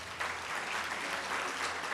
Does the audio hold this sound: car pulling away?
no